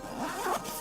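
A zipper slides quickly along the front pocket of a Manfrotto Pro Light RedBee-110 camera backpack, producing a single close, raspy pull lasting under a second.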